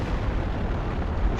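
Dense, continuous gunfire and explosive rumble fill a 1930s-style aerial dogfight in the video game Crimson Skies, a heavy, steady barrage with no pauses.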